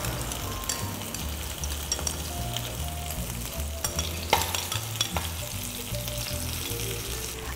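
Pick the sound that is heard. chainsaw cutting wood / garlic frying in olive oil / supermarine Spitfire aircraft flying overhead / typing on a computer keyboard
garlic frying in olive oil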